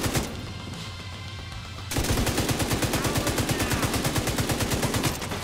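A turret in The Division 2 firing a sustained, rapid, evenly paced stream of shots, loud and close, starting abruptly partway through after a quieter stretch of game ambience.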